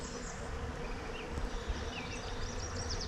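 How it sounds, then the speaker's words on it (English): A swarm of bees buzzes overhead beside a creek, a steady, faint, high droning hum that continues throughout, with individual insects passing in and out over soft outdoor background noise. "There's a swarm of bees up above my head"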